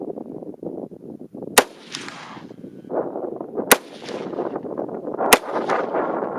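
Three sharp rifle shots fired for a 3-shot group at 100 yards during a Primary Arms 3-18x50 scope test, each a loud, isolated crack spaced about two seconds apart over steady outdoor background noise.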